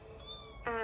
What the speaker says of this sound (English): I'm sorry if you can hear my kitten behind me.